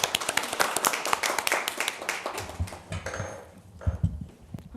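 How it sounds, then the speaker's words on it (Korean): Applause rises from the audience at a policy forum on suicide prevention, many hands clapping close for a couple of seconds before thinning to scattered claps and rustling. "박수로 청해 듣도록 하겠습니다."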